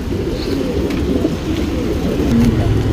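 A large male Chinese pigeon coos in low, repeated throaty bursts, close and steady against a busy loft background.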